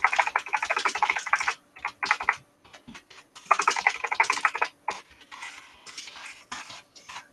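Computer keyboard typing in rapid bursts with short pauses between, fairly close and clear, no voices.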